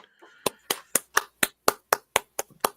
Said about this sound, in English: Oh, he was clapping